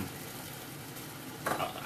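Beef tips, onions and green beans sizzle in a pan with a soft, steady frying hiss, and a scrape of stirring rises briefly near the end, quiet and alone.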